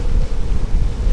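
Steady, loud wind of about 30 knots on a boat deck roaring and buffeting the microphone with a low rumble, no voices.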